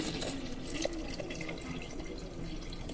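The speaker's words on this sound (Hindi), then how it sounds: "पानी शामिल करेंगे 1 गिलास तकरीबन।" Roughly a glass of water pours steadily into a blender jar with falsa berries and salt for a sharbat, a continuous close splashing flow lasting a few seconds.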